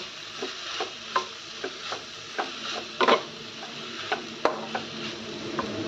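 Coconut laddu mixture being stirred in a pan: a steady series of scraping, knocking strokes of a spoon against the pan, close and fairly quiet, with a faint sizzle underneath and no talking.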